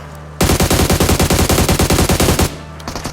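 A loud, rapid burst of automatic gunfire in PUBG Mobile rattles on for about two seconds, then stops abruptly, leaving quiet background noise.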